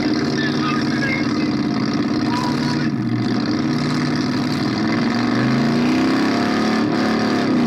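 A Ford F150 truck engine runs loud and close, its rumble rising and falling as it revs, with a voice talking over it.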